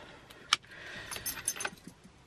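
A bunch of car keys for a Subaru Impreza jangles in a few quick metallic bursts at close range, with a sharp clink early on and lighter rattles following.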